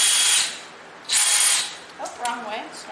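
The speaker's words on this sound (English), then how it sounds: "Put your drill bit inside your drill." A handheld power drill whirs in two short bursts, close and fairly loud, while a rain barrel is being assembled, with brief clicks and a bit of speech-like sound between runs.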